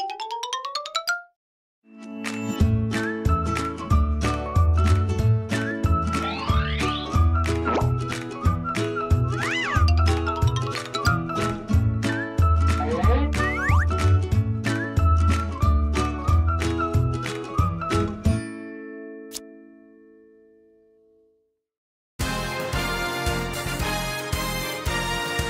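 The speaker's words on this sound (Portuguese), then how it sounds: "Enzo, roda a vinheta" An intro jingle for a Portuguese-language movie channel plays for about twenty seconds, bright and busy with chiming, tinkling tones over a steady beat, then fades out before a short burst of another bright musical sting.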